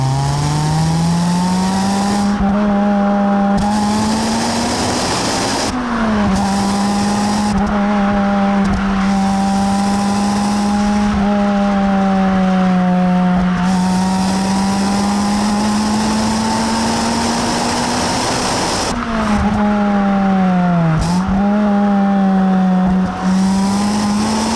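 A Toyota Corolla T Sport hot hatch accelerates hard, its loud engine note climbing through the revs, dropping briefly at several gear changes and rising again, close and continuous with no talk.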